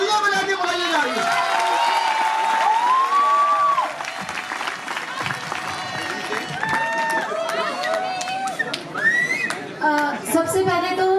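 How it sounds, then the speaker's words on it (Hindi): An audience at a Hindi poetry gathering claps in a sustained burst of applause to welcome a poet to the stage. Crowd voices and a speaking voice mix in throughout. "एक बार तालियां बजा के बुलाइए जाइए।"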